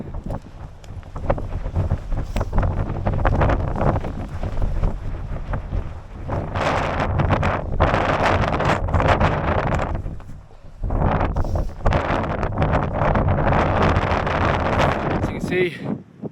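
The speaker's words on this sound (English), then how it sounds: "The wind's starting to get colder as I climb" Cold wind on a winter mountain climb up Blencathra roars steadily against the microphone in heavy gusts, loud and close throughout, with a voice talking over it.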